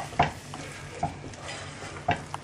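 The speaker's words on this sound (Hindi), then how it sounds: "5 मिनट के बाद उसको खोल कर आप अच्छी तरह से मिक्स करें।" Beet greens curry is stirred in a cooking pan: three distinct scraping strokes over a steady soft sizzle, close and fairly quiet.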